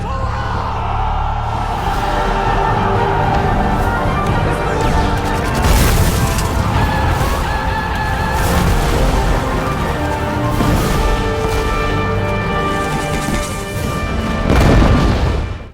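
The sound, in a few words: war film explosions, bombs and gunfire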